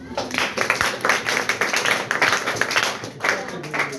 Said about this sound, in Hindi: आप बहुत अच्छा बोल रहे हो, एक बार ताली बजाएं इनके लिए।